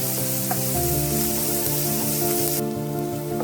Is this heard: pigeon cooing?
no